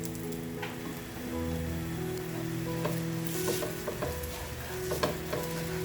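Oil sizzling in a pan under rava and tomato batter, a steady close crackle with occasional stirring or scraping sounds and no voices.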